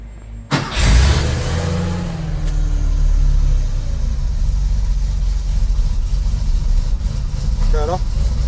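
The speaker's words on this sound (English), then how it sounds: "So now that starter motor can start, so start up." Porsche 911SC engine fires up after a starter motor rebuild, a sharp catch followed by a loud, steady rumbling idle close by, with a faint voice briefly audible near the end.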